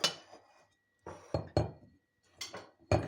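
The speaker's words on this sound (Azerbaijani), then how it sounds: "Əvvəlcə bir qab götürürük." A bowl is picked up and set down on a kitchen counter while a salad is being made. It gives several sharp, close clinks spread across a few seconds, with quiet gaps between them.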